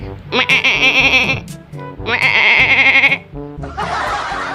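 A boy imitates the bleating of a goat kept at home, giving two long, loud wavering bleats close to the mic, followed by a burst of breathy noise.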